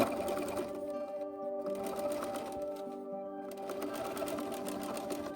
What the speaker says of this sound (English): we're going to take it to the machine and have the seam folded towards the lining and just do a pretty close stitch along this seam right here